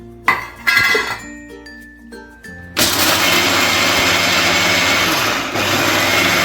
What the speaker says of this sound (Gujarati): તેને હવે મિક્સરની અંદર આપણે પીસી લઈશું